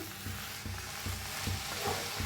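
Methi bhaji cooks in an iron tava, with a soft steady sizzle under rhythmic scraping strokes of the spatula as the leaves are mixed, close and moderately quiet.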